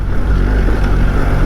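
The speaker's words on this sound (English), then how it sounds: "I'm just going to let the revs drop down a bit." A 2025 BMW R1300 GSA motorcycle engine idling down at low revs while riding over sandy loose ground, a loud, close, deep rumbling throb that holds steady through the brief moment.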